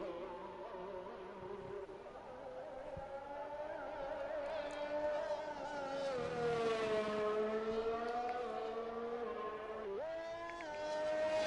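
Race cars in a Formula 1 racing game at Belgium peel out of the pits, several engines droning and revving in overlapping rising and falling whines, steady and fairly close.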